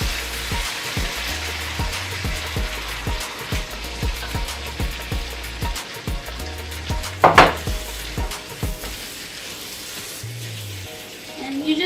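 Tomatoes frying in hot oil for a quick biryani, a steady sizzle with pan and utensil scrapes and occasional clinks, one sharper clatter midway, close and fairly loud.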